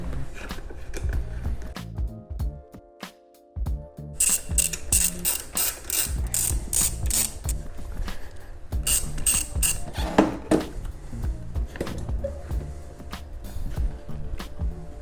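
Ratchet wrench removing a screw on a motorcycle during fairing work: steady clicking bursts of the pawl, close and fairly loud, with brief pauses and some metallic handling sounds between runs.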